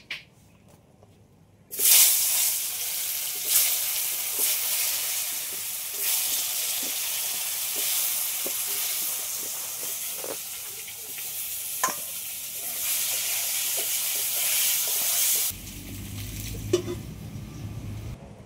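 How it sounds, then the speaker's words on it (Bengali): Potato and pointed gourd pieces coated in salt and turmeric frying in hot oil, a steady close sizzle and hiss running nearly the whole time, with occasional stirring clicks and a louder burst near the end. "পটল আর আলুতে অল্প করে লবণ আর হলুদ মাখিয়ে রেখেছি, এগুলো আমি সব ভেজে নেব।"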